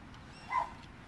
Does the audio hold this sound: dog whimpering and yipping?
yes